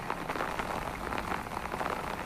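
Rain patters steadily on a rooftop nearby in Dhaka, a dense crackling spatter with no voices.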